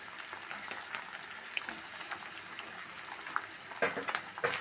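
Grated coconut thoran stirred in a frying pan, giving a soft, quiet sizzle with light scraping and stirring clicks, a few sharper bursts near the end, and no voices.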